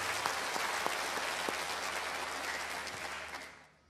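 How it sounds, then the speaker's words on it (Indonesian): A church congregation applauds together, a full and steady roar of many hands with a few sharper claps up close, holding strong before fading out at the end. "Beri tepuk tangan yang baik buat dia"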